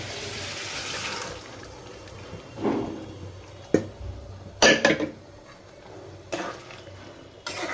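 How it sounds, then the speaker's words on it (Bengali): Water splashes into a pot of boiled rajma (kidney beans) in a home kitchen, with a rushing pour near the start and a few later clinks and stirring sounds. "একটু জল দিয়ে দিলাম"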